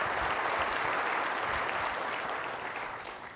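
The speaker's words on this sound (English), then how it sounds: "we can clap for that." An audience at a 2016 partner summit keynote claps in a steady, dense wave of applause that fades toward the end, with no speech over it.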